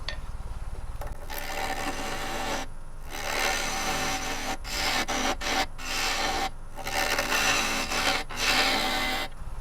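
A lathe turns a driftwood burl at about 1200 RPM while a tool cuts, producing continuous close rasping and scraping with a steady motor hum, broken by several brief pauses and changes as the tool lifts off.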